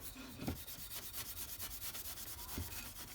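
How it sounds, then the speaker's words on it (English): A polishing wheel rounds over the edges of a wooden handle from a Stanley No. 4 1/2 plane, giving a soft, fast, rhythmic rubbing that stays close and even throughout. "It polishes stuff so well, and we'll just round over the top edges."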